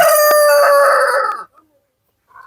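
A Light Sussex rooster gives one loud, close crow lasting over a second that cuts off sharply, followed by near silence and a soft brief sound at the end.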